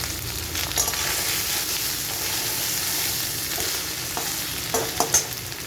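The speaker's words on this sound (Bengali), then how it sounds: "এখন একটু আদা বাটা দিয়ে দিলাম ফোড়নে।" Ginger paste spits and sizzles in hot oil with black cumin and cumin seed tempering for a mixed-vegetable fish curry, a steady loud frying hiss with a few scraping stirs and sharp pops near the end.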